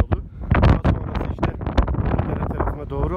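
Heavy gusts of wind at a high hilltop castle buffet the microphone in loud, rough bursts, with a voice talking underneath.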